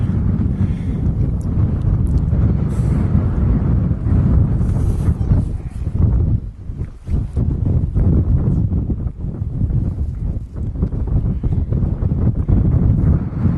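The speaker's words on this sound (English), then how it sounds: "Well, it's a bit blustery" Strong, continuous wind buffeting a microphone on a Lake District hilltop, a loud low rumble that dips briefly midway and then gusts back up, with no voices.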